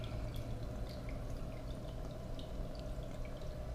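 Water runs steadily over a gold prospecting sluice table, a constant close wash with light drips and splashes and no talk.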